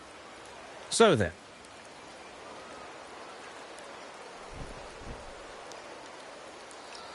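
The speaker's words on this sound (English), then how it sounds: "The rains in Septimont never seem eager to leave this season" Steady rain falls in Septimont in a video game, a constant soft hiss that runs throughout. A brief voice cuts in near the start and faint scattered taps come later.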